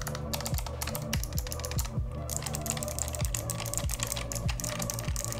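Fast, crisp clicking and clacking of a low-profile mechanical keyboard with Gateron switches and retro-style keycaps, with a continuous run of close keystrokes and no talk.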